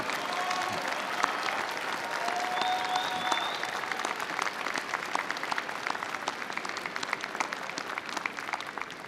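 A commencement audience for doctoral and master's graduates stands and applauds in a large hall, a dense, steady wash of clapping with faint cheers that holds evenly for the full nine seconds.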